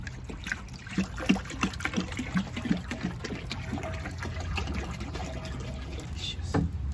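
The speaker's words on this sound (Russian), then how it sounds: "наливаем воду." Water is poured into a cauldron over a wood fire for fish soup, giving splashy glugs and trickles, with steadier filling toward the end and some faint outdoor background.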